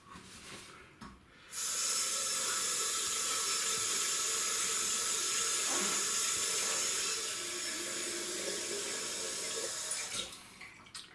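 Cold tap water runs steadily into a sink in Scotland during a shaving routine, a continuous close hiss starting after a brief pause and easing slightly near the end before cutting off.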